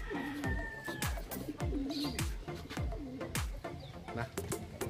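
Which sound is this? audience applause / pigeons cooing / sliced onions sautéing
pigeons cooing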